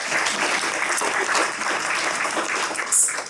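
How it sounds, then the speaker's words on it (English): An audience at a poetry reading event applauds in a steady, dense burst of clapping that holds through the moment before fading at the end. "a clap of thanks for the translators who aren't with us tonight"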